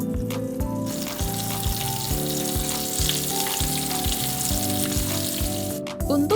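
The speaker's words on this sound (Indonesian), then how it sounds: "Jika semua sudah ditoko atau dipukul-pukul seperti ini, waktunya digoreng." Pounded beef dendeng for Padang-style dendeng balado fries in hot oil with a loud, continuous crackling sizzle, backed by a repeating low tonal pattern throughout and a brief change right at the end.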